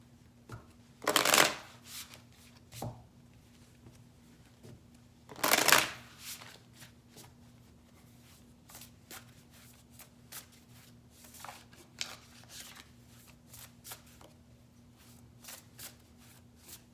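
Tarot cards being shuffled by hand: two brisk riffling bursts a few seconds apart, then scattered soft taps and slides of cards, close and quiet over a faint steady hum.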